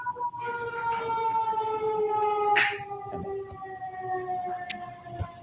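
A wailing siren with steady tonal layers sounds at moderate distance, holding mostly level pitch across several seconds, with a brief sharp noise burst in the middle and low background rumble.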